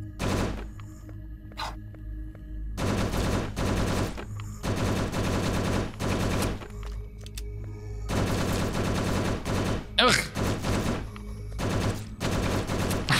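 Gunfire from weapons in the zombie survival game Last Hope Bunker: rapid bursts of automatic shots, loud and close, broken by short pauses between volleys, with no one talking.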